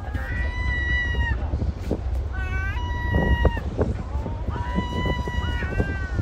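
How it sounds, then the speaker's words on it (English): Two seagulls calling repeatedly with drawn-out, wailing cries over steady low rumbling wind or traffic noise near Dover on a road trip, fairly close and in several bursts. "there's two seagulls that are having a great time too"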